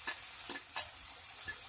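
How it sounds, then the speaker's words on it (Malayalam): Chopped ginger, garlic and green chillies sizzle softly in a pan for a squid stir-fry, with a few light stirring taps over a quiet, even hiss. "ഇതിലേക്ക് അരിഞ്ഞു വെച്ചിരിക്കുന്ന ഇഞ്ചിയും വെളുത്തുള്ളിയും പച്ചമുളകും ചേർത്ത് കൊടുക്കാം."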